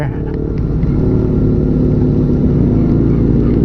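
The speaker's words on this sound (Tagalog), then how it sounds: "Ito na yung mga mabibilis na mga motor." Fast motorcycles roar along the Marilaque mountain road, a loud, dense engine drone that holds steady at close range throughout.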